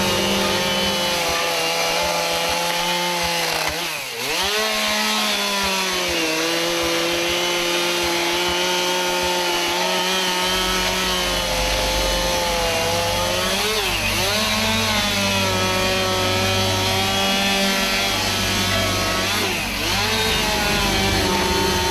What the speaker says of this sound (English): One of the truckers uses a chainsaw to open up the walls of the home.